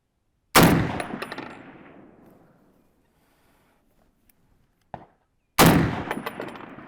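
Two loud, sharp M1 Garand rifle shots fired at a target 300 away, each followed by a long fading outdoor echo, with a faint metallic click between them.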